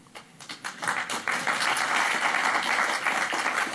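Sparse applause in an audience starts with scattered claps, then swells into a steady, moderately loud burst of clapping that holds to the end.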